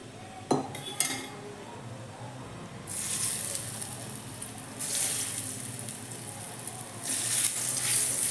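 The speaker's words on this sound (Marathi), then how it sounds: "आता ह्याला सॅलो फ्राय करणार आहे मी, डीप फ्राय नाही करणार." Alu vadi rolls go onto a hot tawa with a little oil for shallow frying: a couple of clinks of utensils first, then bursts of bright sizzling that swell and fade, close and fairly loud, with no talking.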